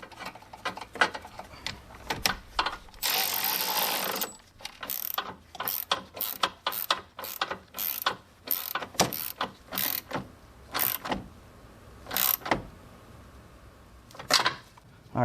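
A ratchet clicks in quick bursts as it tightens a car battery hold-down bracket on a 2018-2024 Buick Enclave or Chevy Traverse. Several close, sharp runs of clicking come with pauses between them and no talk.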